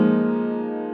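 One sustained, ringing guitar chord with an added F, from a song, held for about a second and slowly fading.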